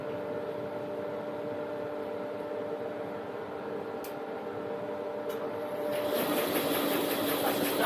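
Woodworking machine feeding a heavy oak board of about 40 to 50 kilograms, a steady close mechanical drone that swells louder and harsher near the end as the wood engages.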